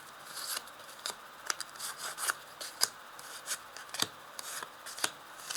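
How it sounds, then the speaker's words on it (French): Tarot cards being laid out and handled on a table, a series of soft scraping slides and light taps, about a dozen quiet strokes at an irregular pace, close and without talk. "je vais placer 5 cartes"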